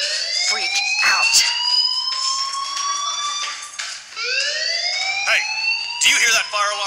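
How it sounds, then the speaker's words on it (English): School fire alarm in the video game Life Is Strange, a continuous rising electronic wail sweeping upward again and again, loud and steady, with sharp clicks and short bursts of other game sounds cutting in. "Do you hear that fire alarm? That means you should be outside."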